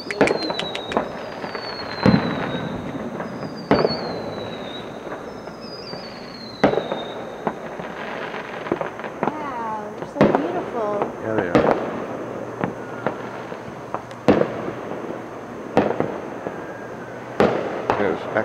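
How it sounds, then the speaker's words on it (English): Fireworks bursting over a lake during a summer outing on a boat, with repeated sharp booms and crackles across the whole stretch, some whistling rockets rising early on, and voices chattering in the background. "Check out the fireworks."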